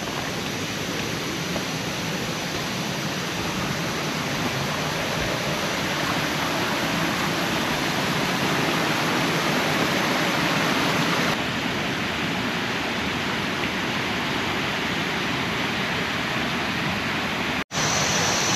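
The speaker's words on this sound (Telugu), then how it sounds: "steel blue colour water fall" A steel-blue waterfall in Laos roars as a constant, broadband rush of falling water, close and loud throughout with no voices.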